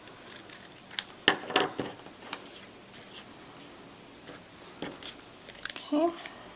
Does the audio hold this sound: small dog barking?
no